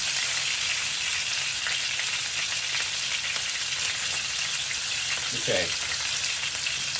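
Meatballs searing in a frying pan for a meatball and potato korma, an even broadband sizzle running throughout with a brief spoken word near the end.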